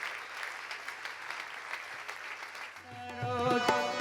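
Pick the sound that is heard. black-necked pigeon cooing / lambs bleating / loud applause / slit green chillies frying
loud applause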